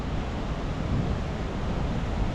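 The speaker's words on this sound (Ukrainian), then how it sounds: "Класний водоспад." A roaring waterfall in Norway, seen from a roadside stop, gives a steady, dense rush of broadband water noise that stays loud and unbroken throughout, with no voices over it.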